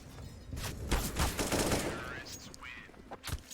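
Rapid gunfire from a Counter-Strike: Global Offensive match with a pistol and rifles, steady bursts of shots throughout with a commentator's voice running over them.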